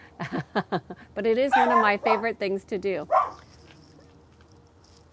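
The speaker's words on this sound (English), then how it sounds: "That's my dog barking at the other dog." A pet dog barks at another dog during a walk, a string of short, close yaps and yips mixed with a person talking over them.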